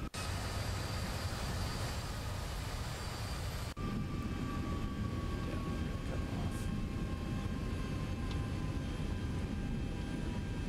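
The jet engines of a Boeing 737-800 hold a steady, dense roar as it taxis in X-Plane 11. A brief cut near four seconds shifts it to a slightly lower, rumbling tone with a faint whine, and no voice is heard.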